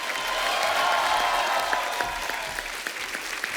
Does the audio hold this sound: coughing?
no